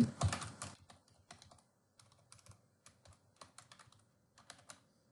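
Rapid bursts of typing on a computer keyboard, keys clattering in quick irregular runs with short pauses, close and fairly quiet, no talking.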